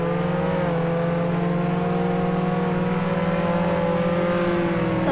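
A fast car with a level 5 engine in Roblox Jailbreak holds a loud, steady engine drone with a brief shift early on, then keeps a constant high rev for several seconds, with no talk.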